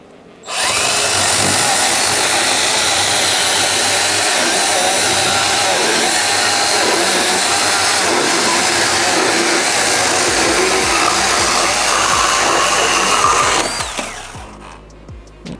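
A Milwaukee M12 FHS cordless chainsaw whines loudly and steadily as it cuts through a pine log for about twelve seconds, then winds down and stops.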